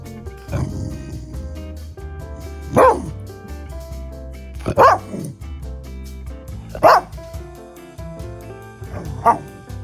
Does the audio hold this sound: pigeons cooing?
no